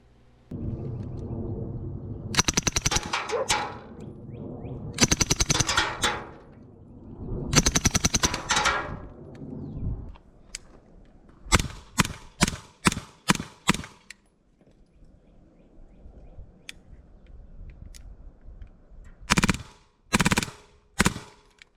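Muffled shots from an Energetic Armament Sonus suppressed 9mm pistol fired close by, some in quick strings of several and others spaced apart, with quiet gaps between the volleys.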